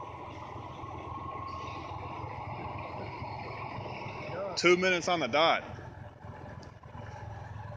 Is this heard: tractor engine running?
yes